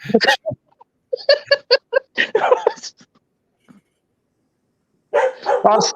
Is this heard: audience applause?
no